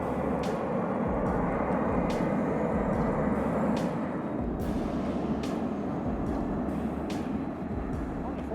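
A jet aircraft passes low overhead, a broad loud roaring rush sustained throughout, with a person talking over it.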